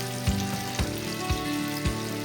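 Fish fry slowly in a pan over lowered heat, a steady soft sizzle with four evenly spaced low thumps from the pan or spatula, close and without speech.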